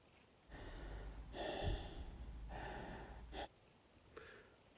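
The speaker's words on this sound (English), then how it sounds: "I know you're there, I can hear you breathing." Heavy, close breathing in several long, rasping breaths with brief pauses, faint and muffled as if over a telephone line.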